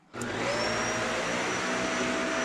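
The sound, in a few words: household vacuum cleaner powered by Anker Solix C1000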